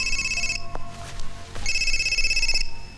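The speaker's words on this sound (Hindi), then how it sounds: "माँ का फोन है।" A telephone rings with an incoming call from the mother, two loud bursts of a bright electronic ring separated by a short gap, steady and close against a quiet background.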